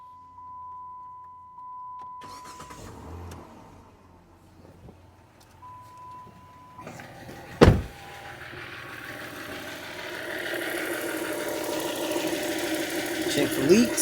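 A 2009 Dodge Charger, fresh from a fuel injector replacement, cranks with a sharp burst and then rises into a steady idle that stays up close, after a quiet stretch with a faint electronic tone.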